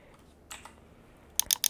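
Typing on a computer keyboard: after a faint early tap, a quick burst of several crisp, close keystrokes clicks out near the end.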